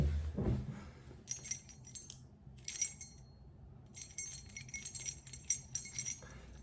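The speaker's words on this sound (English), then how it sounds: "I got the keys." Keys jingle and clink in bursts, a faint, close metallic jangle that comes and goes several times over a quiet room background.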